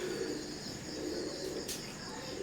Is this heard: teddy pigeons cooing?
yes